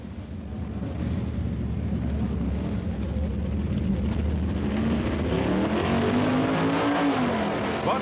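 Two 1965 Super Stock drag racing cars launch down an Arizona asphalt strip, a loud roaring engine wall that swells after the first second and climbs in pitch toward the end, heard alone.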